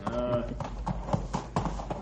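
Horses' hooves clip-clop over a dangerous rocky trail with loose stones in an old radio drama. Irregular knocking hoofbeats sound close and moderately loud, with a voice heard briefly at the start.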